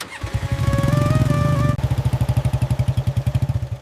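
Royal Enfield Bullet motorcycle engines thumping close by, a steady loud single-cylinder beat with a whining tone in the first half, then an even, rapid pulsing idle that keeps going without any voices.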